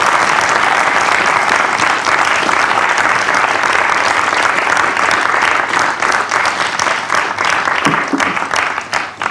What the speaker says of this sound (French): Je crois que nous pouvons remercier et applaudir le président Hollande et Nicolas.